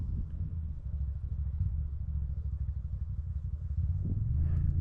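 A Can-Am Renegade ATV engine idles at a distance, a low, steady rumble that swells a little near the end, with no talk over it.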